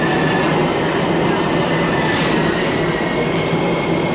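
A metro rail train in Miami, steady and loud, with continuous rumble and hiss as it arrives at a station, a faint high squeal of wheels on top and no talk.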